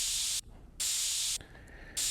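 A simulated spray paint can effect in a Vision Pro app gives off two long, loud bursts of airy hiss, each cut off sharply by a brief quiet gap before another starts.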